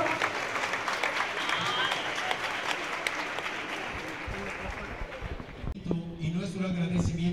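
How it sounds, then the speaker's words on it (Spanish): Sustained applause from an audience at the Tlaxcala 2015 closing ceremony, a dense steady wash of clapping that thins out near the end as voices emerge. "Un aplauso para todos, por favor."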